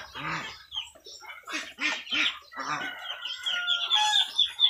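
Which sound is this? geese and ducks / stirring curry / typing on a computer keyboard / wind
geese and ducks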